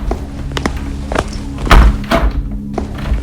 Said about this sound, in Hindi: तभी दरवाजा खुलने की आवाज से वह चौंक जाती है।